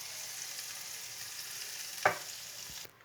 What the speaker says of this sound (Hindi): ये मैं इसमें तड़का लगा रही हूँ